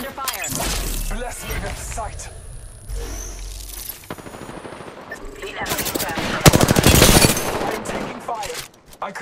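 Apex Legends gunfire in a ranked arena match: rapid automatic bursts and sharp shots, loud and close, with a heavy volley near the end, while players talk over the action.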